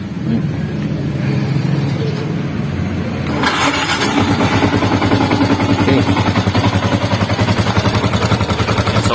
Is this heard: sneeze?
no